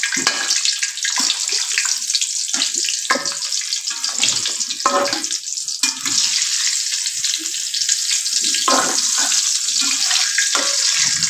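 Tomato fritters in batter fry in hot oil with a loud, steady, close-up crackling sizzle that runs continuously throughout.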